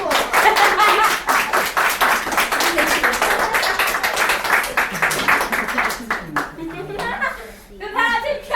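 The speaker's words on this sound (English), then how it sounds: "Round of applause." A live audience at a Halloween-themed show claps for a volunteer in a dense, lively burst of applause that thins out toward the end as people begin talking and a voice comes through.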